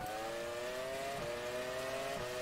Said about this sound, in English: Although it sounds like there's a car next to me. The BAR is loud.